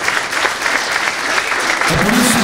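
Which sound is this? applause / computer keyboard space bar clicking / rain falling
applause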